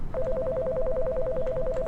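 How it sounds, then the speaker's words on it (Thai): An incoming phone call rings in the horror video game They Look Like Us: a loud electronic trill warbles quickly between two tones, steady and unbroken, with no talking. "มีโทรศัพท์เข้ามา เราไม่รับ"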